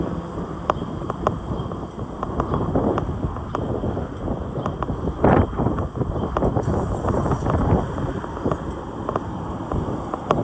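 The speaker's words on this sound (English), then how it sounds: "Very windy day today." Gusty wind buffets the microphone on a New York City street, a steady low rumble with irregular bursts, and scattered knocks and traffic noise underneath.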